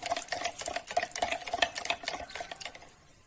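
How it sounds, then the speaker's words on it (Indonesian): A spoon stirs salt into milk in a bowl until it dissolves, a quick run of light rhythmic scraping and clinking taps that fades out near the end. "Kemudian masukkan garam ke dalam susunya, kita aduk sampai garamnya larut."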